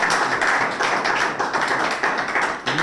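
Crowd applause for rapper Yuri Z at a BMS rap battle event, loud, dense clapping that runs continuously, close and full, with no talk over it.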